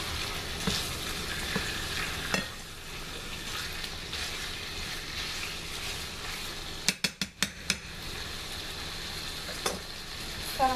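Chicken sautés in a pan over medium-high heat for a barbecue chicken pan pizza, a steady close sizzle with occasional scrapes and a quick run of sharp clacks from utensils against the pan.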